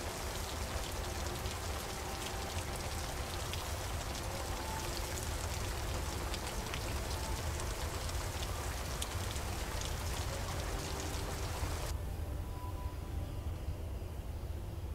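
Steady rain falls in The Stillness of the Wind, a soft continuous patter with drops on surfaces throughout, the brighter hiss thinning out toward the end.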